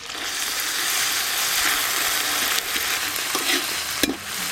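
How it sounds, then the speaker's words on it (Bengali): Onion with ginger-garlic paste frying and being stirred in a pan, a steady loud sizzle throughout with occasional scraping clinks of the spoon, no voices. "আদা রসুন পেঁয়াজ ভালো করে কষ।"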